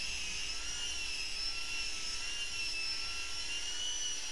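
A polishing machine works a metal plate, giving a steady, unbroken high-pitched whine with a hiss and a faint low hum underneath, held at an even level throughout.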